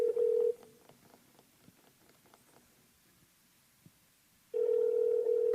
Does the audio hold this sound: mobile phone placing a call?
yes